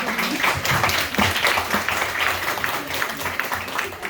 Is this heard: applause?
yes